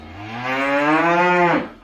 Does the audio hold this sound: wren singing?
no